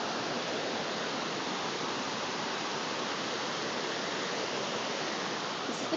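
A cold river flows beside a wooded mountain trail in southeast Idaho, a continuous broad rushing wash of water, steady and fairly close throughout with no voices.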